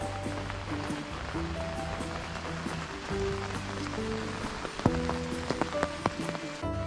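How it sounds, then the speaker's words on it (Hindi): Rain falls in a village in Manipur during the monsoon, a steady close patter of drops on surfaces with scattered louder plinks and drips, moderately faint and continuous. "और गाइस जैसे कि बारिश हो रही है"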